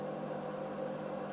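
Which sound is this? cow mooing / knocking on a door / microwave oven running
microwave oven running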